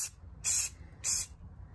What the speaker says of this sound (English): I took the spray paint